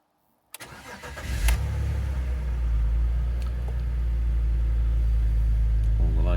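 A BMW E39 engine cranks and starts with the key after a moment of silence, then settles into a steady low rumbling idle close by, with a light clatter at the start.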